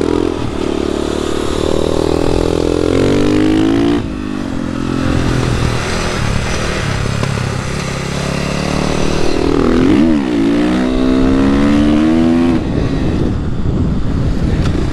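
On a race circuit, a Husqvarna 450 Supermoto motorcycle roars close and loud for a sustained stretch, its engine pitch climbing and falling through repeated accelerations, shifts and braking, with wind buffeting over the steady engine note.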